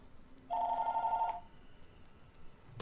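A telephone rings once with a bright electronic trill lasting under a second, fairly clear over quiet background, followed by a faint lingering tone and a short thump at the end.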